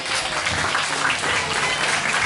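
Dense, steady applause from an audience at a religious lecture on the noble character of the Prophet Muhammad, a continuous loud patter of many hands throughout.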